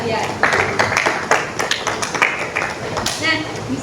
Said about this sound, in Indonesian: kita bisa beri tepuk tangan applause buat diri kalian